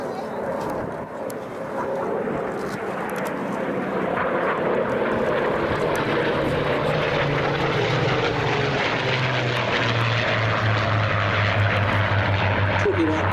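A Spitfire-era propeller aircraft makes a pass at the Sywell airshow, its steady engine drone building and staying loud throughout, with a rising and falling pitch as it flies by.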